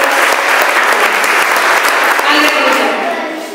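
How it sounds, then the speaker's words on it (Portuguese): A church congregation bursts into loud, sustained applause that fills the room for several seconds before starting to taper off. "Pode aplaudir a palavra de Deus."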